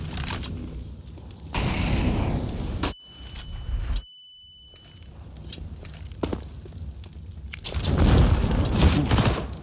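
A grenade explosion in a professional Counter-Strike: Global Offensive match, with a loud burst near the start, a high beeping tone, scattered gunfire and footsteps, and a second heavy blast toward the end.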